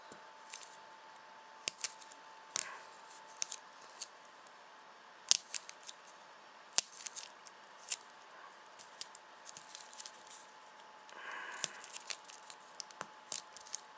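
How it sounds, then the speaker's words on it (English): A Love Letter card deck's packaging is torn open by hand without tools, giving sparse, faint crinkles and sharp plastic snaps and rustles scattered irregularly across a quiet background. "I'm gonna open the deck of cards."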